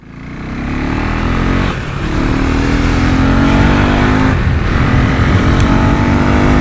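A Husqvarna Svartpilen motorcycle accelerates hard on an open road, its engine loud and close, rising in pitch through the gears with brief dips at each shift and no talk over it.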